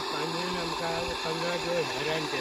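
An engine-driven water pump running at a well, giving a steady, loud mechanical drone with a pulsing low throb throughout, while people talk nearby.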